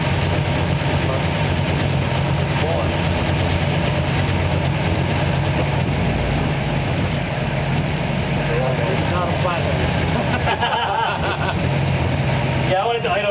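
A 1934 Ford Tudor sedan engine idling after 50 years in storage, a steady low rumbling drone that runs unbroken throughout, with people talking over it.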